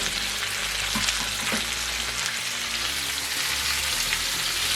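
Shrimp and asparagus sizzle and fry in a pan with garlic, a steady close hiss broken by a few soft stirring scrapes.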